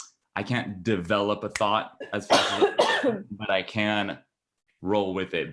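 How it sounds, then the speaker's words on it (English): A person on a podcast coughs sharply once in the middle of continuous conversational speech, close to the microphone. "Bless you if that's what you say to coughs."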